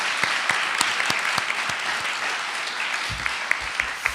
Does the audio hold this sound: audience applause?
yes